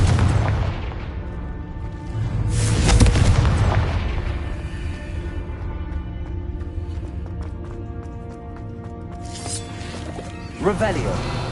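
A loud booming blast from a Confringo spell in a magic game, swelling around the third second and trailing off into a long ringing decay, with a smaller impact near the end.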